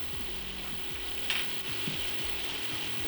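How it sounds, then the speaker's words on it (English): Butter melting into a reduced sauce for salmon, a dense steady sizzle and bubbling with a few soft spoon scrapes, close up and without any voices. "When this is all reduced, add 1 tablespoon of butter."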